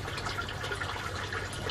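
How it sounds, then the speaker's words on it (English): Aquaponics grow bed flushing through a siphon driven by a high-capacity pump, a steady close wash of rushing, gurgling water that runs unbroken with no voices. "So that's the flushing action again."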